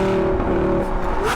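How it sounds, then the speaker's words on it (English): Lamborghini 550/2 Valentino Balboni V10 engine dropping through a downshift, a loud, continuous engine tone that holds steady then bends upward near the end, close by with no talk. "Well, there you go, there's a downshift."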